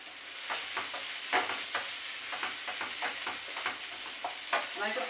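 Onions frying in a pan for potol bharta hiss steadily, with a quick series of spatula scrapes and stirring strokes close by.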